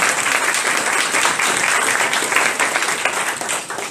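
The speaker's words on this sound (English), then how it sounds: "Let's give them all a round of applause." An audience at a general membership meeting breaks into steady, loud applause, a dense wash of many hands clapping close by for a few seconds, fading slightly at the end.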